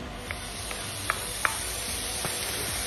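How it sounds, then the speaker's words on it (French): Bacon lardons frying in a pan: a continuous bright sizzle with a few faint pops and crackles scattered through it. "Avec des lardons que je vais faire revenir."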